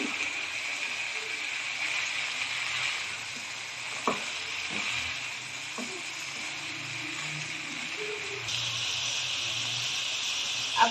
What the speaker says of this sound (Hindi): अब हम इसमें डालेंगे गाजर और इसे भी 5 मिनट तक फ्राई करेंगे।